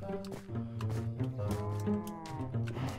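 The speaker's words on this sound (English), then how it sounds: "So now I need cows to milk." Minecraft cows moo repeatedly in short, overlapping calls, fairly loud and close, with no voices over them.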